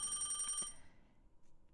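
An old phone rings inside the video game Dreambound, a bright trilling bell burst that stops abruptly partway through and leaves a quiet, low background.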